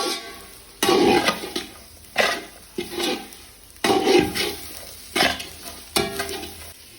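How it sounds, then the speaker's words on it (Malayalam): Spice mix stirred and frying in a pan for a Malayalam-style beef curry: bursts of scraping stirring and crackling sizzle come in repeated waves, close and fairly loud, with no talk. "മസാലക്കൂട്ടുകൾ അതും കൂടെ അങ്ങോട്ട് ചേർക്കും. ഇതിനും പച്ച മാറുന്നിടം വരെ ഇളക്കണം."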